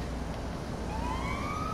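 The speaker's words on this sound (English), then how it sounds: "I had the sirens going on mine." A police car siren in a video game rises as a thin sweeping tone over a dense rumbling background, fairly faint and brief.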